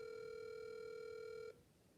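A telephone tone sounds as one steady, loud electronic note with a few harmonics, held for about a second and a half before cutting off abruptly, leaving faint background noise with no talking.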